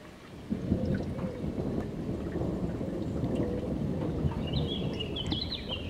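Night thunderstorm over Amboise, with a steady wash of rain and low rolling thunder running throughout, broad and continuous rather than sharp cracks, with faint bird calls appearing near the end.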